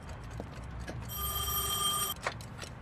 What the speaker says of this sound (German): Würdest du für mich rangehen, Scott? Sag ihnen, sie sollen heute Nachmittag nochmal anrufen